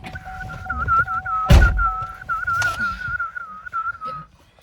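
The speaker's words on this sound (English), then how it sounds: "Y'all see my whistling been improving?" A person whistles a long, wavering tune, with a loud thump partway through and a few soft knocks in the background.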